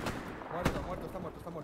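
Gunfire in the video game Hell Let Loose during a fight near a church, one sharp shot standing out against a dense backdrop of distant rumbling battle noise.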